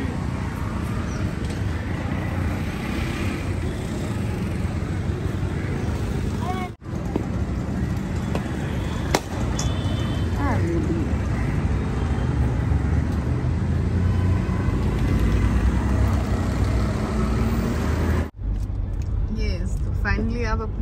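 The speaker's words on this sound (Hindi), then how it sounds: "फेवरेट कार ड्राइव कर रहे हैं, कैसा फील आ रहा है?" A new Mahindra Scorpio N driving on a road in Mumbai, with steady engine and road rumble plus wind noise throughout, under a person talking.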